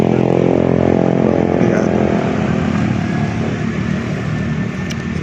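A jeepney rumbles past on a road on the UP Diliman campus, its engine a loud, steady drone that eases slightly as it moves away, with a brief voice over it.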